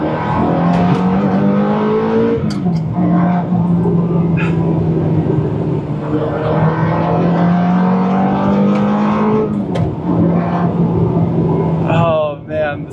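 A Ferrari F430 V8 with a manual gearbox, blipping during heel-toe downshifts: a steady engine drone rising and falling in pitch, with sharp revs and gear changes near the end, loud and close, with a person talking over it.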